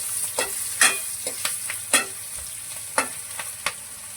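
Garlic and green chillies sautéing in hot oil for a tempering, a steady close sizzle broken by repeated scraping stirs of a spoon against the pan, with no talking.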